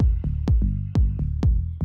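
A punchy kick drum and deep bass of a minimal house track pulse together in a tight, loud groove. Repeated booming hits fall at a steady rhythm, with no voices.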